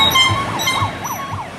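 A wailing siren from counter-protesters rises and falls steadily at a Portland street march, heard at mid-distance outdoors with a faint air horn blast near the start.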